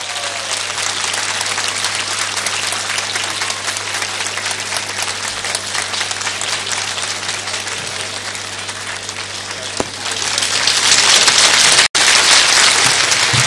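A studio audience at a Bursa TV evening entertainment show applauds a singer as he is introduced, a dense steady clapping that swells louder near the end.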